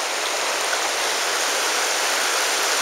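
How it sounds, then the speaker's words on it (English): Zion Narrows river flowing steadily over rocks, a dense, continuous close-up rush of water with no pauses and no voices. "Luckily for us, the river's not too high today, so it's easy to walk through."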